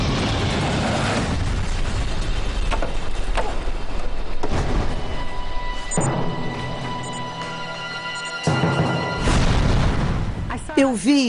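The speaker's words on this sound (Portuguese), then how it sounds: "Foi uma explosão enorme, como se uma bomba tivesse caído no solo." A massive explosion rumbles as a plane, Aeroméxico flight 498, crashes into the ground near Los Angeles; deep booming roar fills the scene amid dramatic music and voices.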